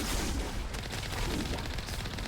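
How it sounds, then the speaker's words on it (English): In a sci-fi action video game, a cannon mounted on a vehicle fires in a rapid burst of blasts, loud and close, over continuous game noise. "there is a cannon on this thing"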